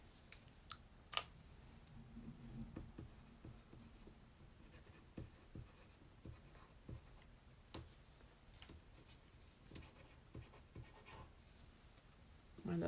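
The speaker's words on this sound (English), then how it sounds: "on the back, I'm going to write down what it is" A pen scratches across the back of a peeled-off piece in a hedgehog craft project, with steady close strokes and small ticks and taps over a quiet room.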